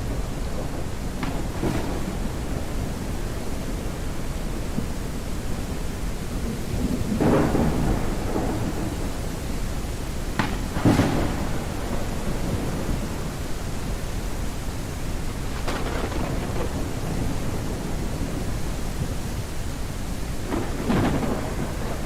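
Steady rain hiss in the game The Great Circle, with several deep thunder rumbles rolling in at intervals over the constant downpour; no voices.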